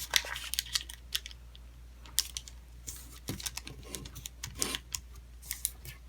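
Paper is folded and sharply creased while making an origami Venus flytrap, with a close series of crisp crinkles, taps and rustles in irregular bursts and no talk.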